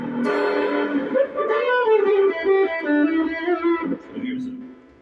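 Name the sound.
electric guitar through TC Electronic Rusty Fuzz pedal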